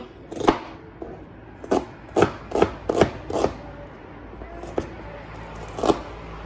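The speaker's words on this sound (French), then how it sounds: "Alors, je vais couper mes oignons." Knife chopping onions and a shallot on a board, a scattered series of sharp, close cuts, some quick clusters and some isolated strikes, with low kitchen background between them.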